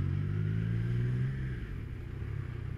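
A Triumph Tiger Sport 660 motorcycle's three-cylinder engine rides through traffic, a low, steady droning hum that eases slightly partway through as the rider backs off.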